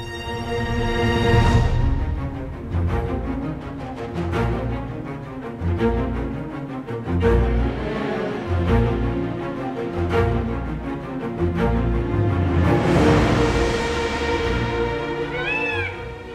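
Peacock calling on an island, a loud wailing cry heard near the start amid wind and surf-like background noise, with a fainter repeat later.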